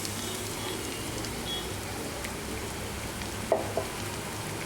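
A spice paste sizzling in hot oil in a pan of biryani gravy, giving a steady soft crackling hiss throughout, with a couple of faint utensil taps near the end.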